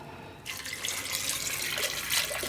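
Water pours into a pressure cooker while soya chunks are prepared, starting abruptly and running as a steady close splashing stream, with no talk.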